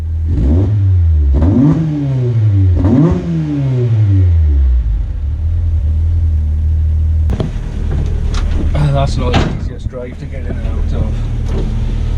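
A Ford Focus ST170 pulls away on a test drive, its engine revving up through several rising gear pulls, then settling into a steady loud road rumble with wind noise.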